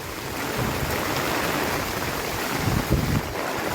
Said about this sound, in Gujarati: આજ તો મેઘ મહેરે બહુ વરસાદ આવે છે, બહુ જ વરસાદ આવે છે